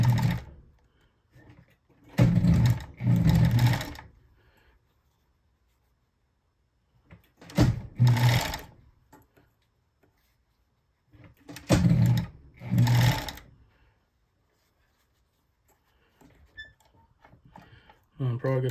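A Bonis fur sewing machine stitches beaver fur gauntlets in several separate bursts of a few seconds each, with quiet pauses between runs.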